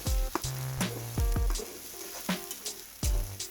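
A paste of garlic, coriander and mint fries in a pan while being stirred, making a close sizzle with sharp, irregular scraping knocks of a spoon against the pan.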